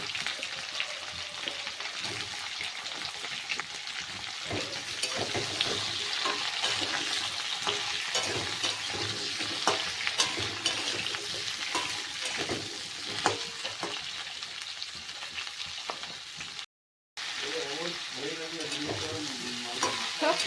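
Potato, kohlrabi, carrot and radish frying together in a pan for a mixed winter vegetable dish, with a continuous close sizzle and frequent stirring scrapes throughout and a brief dropout near the end.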